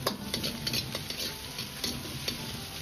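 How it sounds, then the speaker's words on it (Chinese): Oyster mushrooms stir-fry in a hot wok with chilli sauce, making a continuous sizzle broken by quick, rhythmic scrapes and taps of the spatula, close and fairly quiet with no voices. "继续翻炒。"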